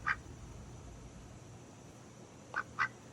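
A duck gives three short, faint quacks, one at the start and a quick pair near the end, over a steady background hiss.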